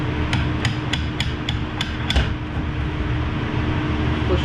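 Seven sharp metallic taps in quick, even succession as the front wheel axle of a 2009 Honda CBR600 is knocked forward, followed by a low workshop hum.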